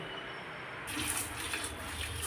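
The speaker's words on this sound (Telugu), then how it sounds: "ఈ క్వాంటిటీని మనం నీట్గా వాటర్ తోటి కడుక్కోవాలి" Water swishes and pours faintly as fenugreek seeds and chana dal are rinsed for dosa batter, a low liquid wash that grows slightly louder partway through.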